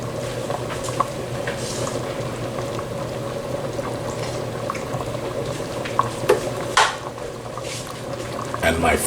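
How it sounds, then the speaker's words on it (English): Split peas boiling in a pot on a stovetop burner make a steady low bubbling and simmering hiss throughout, with occasional clinks and handling noises near the end. "once it comes to a boil, we're going to cover the pot"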